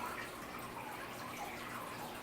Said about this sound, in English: It's going to take a while for that water to fill